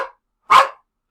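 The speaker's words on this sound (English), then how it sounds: "It's my dog. Hey, French Bulldog, will you settle down?" A French Bulldog gives one sharp, loud bark close by, with a brief fainter yelp just before it, and the room is otherwise silent.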